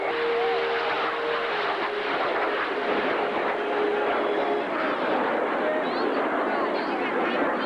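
Snowbirds jet aircraft performing at a 1990 air show in Stockton, a steady loud roar of engines filling the whole stretch without letup, with a faint drifting tone and crowd noise underneath.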